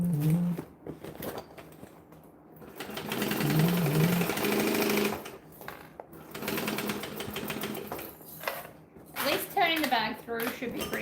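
Sewing machine stitching large seams on a handmade bag, running in steady whirring bursts of a few seconds with pauses between, fairly close, alongside stretches of talk.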